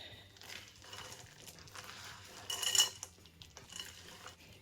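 Two cups of white chocolate chips and chopped, drained maraschino cherries are folded into thick cookie dough in a mixing bowl. Soft, close scraping and stirring sounds repeat, with one louder scrape in the middle.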